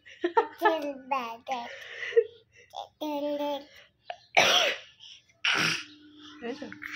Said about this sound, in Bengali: আমি কাশলাম, ওইও কাশছে।